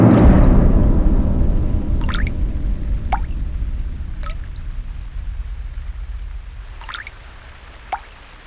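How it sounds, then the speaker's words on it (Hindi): Water dripping from a tap left open in a home: a run of distinct, echoing plinking drops spaced a second or more apart, heard after a fading wash of water noise at the start, with no voices. "पानी कहाँ टपक रहा है? लगता है किसी ने नल खुला छोड़ दिया है।"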